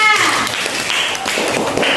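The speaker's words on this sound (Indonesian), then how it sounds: "tepuk tangan untuk kelompok 3" Classroom of primary-school pupils applauding group 3 after their presentation, a dense steady patter of many hands clapping close by for about two seconds.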